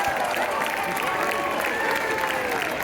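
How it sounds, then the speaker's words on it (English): A crowd at a Greek Independence Day parade in Detroit's Greektown applauds Greek dancers, a moderately distant, continuous patter of clapping under the open-air street noise. "Let's give our Greek dancers a huge round of applause."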